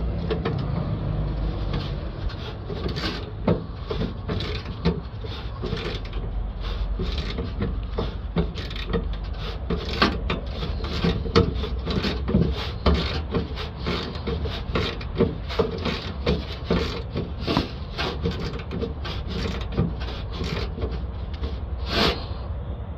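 A socket ratchet loosens 10mm bolts holding a NOx sensor on a Citroën Dispatch van, heard as close, rapid scraping clicks and rubbing metal rattles across a steady low background hum, with no voices.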